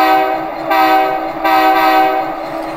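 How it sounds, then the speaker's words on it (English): A G scale GP38-2 model locomotive with a Tsunami2 sound decoder sounds two short, loud blasts of its chime horn, close and steady, with no talk. "Let's blow the quick short horn."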